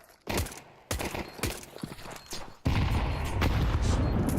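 Grenade blasts and gunfire in a Counter-Strike esports match, a retake round with two HE grenades and a Molotov: several sharp bursts, then a sustained loud roar of fire and explosions.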